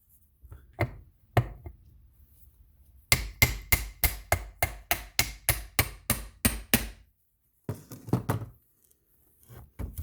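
A small hammer taps a new brush shroud into the hole at the rear of an electric motor: a few isolated knocks, then a quick, steady run of about a dozen sharp, close metallic taps, followed by a couple more later.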